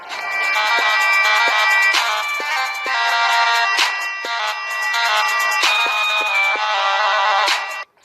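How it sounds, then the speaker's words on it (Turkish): A mobile phone ringtone plays loudly and continuously for several seconds as a bright, repeating electronic melody with regular beats, then cuts off abruptly. "Telefonum çalıyor."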